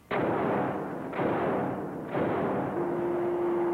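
Factory machinery gives three heavy booming thuds, evenly spaced about a second apart, each with a long rumbling decay, and a steady hum joins near the end.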